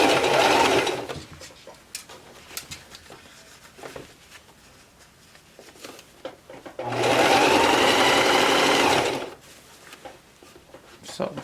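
A sewing machine stitches a fabric scrunchie in two loud bursts of fast, whirring needle action, one at the start and a longer one near the end, with quiet handling noises and faint talk between them.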